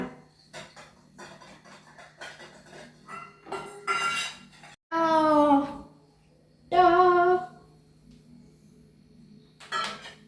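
Dishes and cutlery clink and clatter in short bursts, with voices speaking in between.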